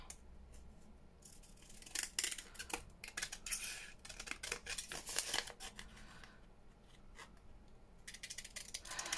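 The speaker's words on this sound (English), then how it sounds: "just get the scissors and take this white off" Scissors snip through white paper packaging scraps in a series of quick, crisp cuts, close but fairly quiet, with rustling of the paper between snips.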